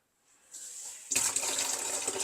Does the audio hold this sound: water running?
yes